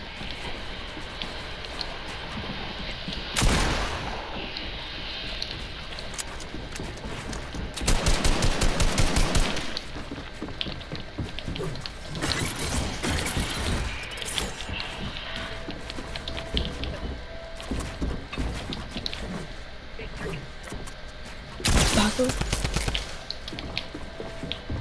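Automatic gunfire in a Fortnite 1v1 match rattles in several bursts, with dense volleys near 3.5, 8–10 and 22 seconds over a steady game background.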